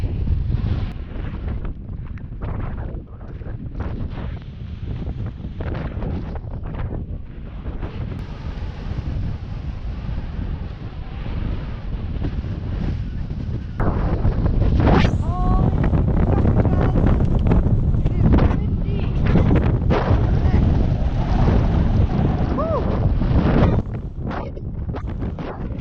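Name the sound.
wind blowing in Iceland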